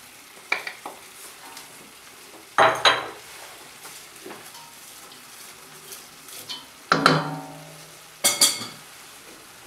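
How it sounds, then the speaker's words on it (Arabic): Onion fries quietly in a pan for a meat tagine with parsley, a soft low sizzle broken by a few loud clattering bursts of a spoon scraping and knocking against the metal. "دابا غادي نديروا البصله ديالنا"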